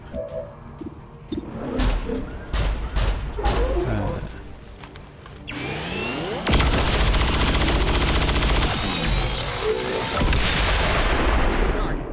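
Shredder weapon gunfire in a video game, dense rapid bursts of loud shots mixed with booming impacts and game effects, building into a sustained roar of fire in the second half, with brief speech in places.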